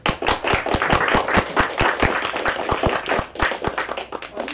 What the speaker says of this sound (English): Why are you clapping for yourself?